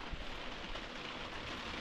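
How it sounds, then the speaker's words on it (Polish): Steady autumn rain pattering down in the mountains at Istebna, Poland, a dense even hiss of drops with no voices, holding constant throughout. "Rozpadało się w nocy i pada do teraz."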